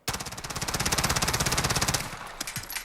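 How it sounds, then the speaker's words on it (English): A Colt 9mm SMG fires a sustained full-auto burst in Call of Duty Modern Warfare: a fast, even string of sharp shots for about two seconds, followed by a few trailing mechanical clicks. "we're going to let this rip and not control the recoil at all. Just let it go full auto"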